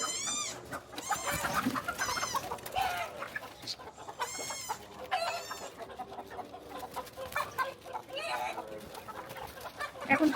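Chickens and a rooster on a rooftop farm cluck and call loudly in overlapping bursts, with sharper squawks rising above a busy background.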